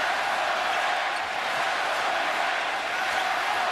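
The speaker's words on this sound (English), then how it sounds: "The crowd is awakening" Basketball arena crowd roaring after a breakaway reverse dunk, a dense, steady wash of cheering that holds loud and even throughout.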